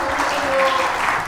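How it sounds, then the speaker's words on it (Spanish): Congregation in a church breaking into loud, dense applause during a sermon, continuous clapping close by with a faint voice under it. "Dele un fuerte aplauso."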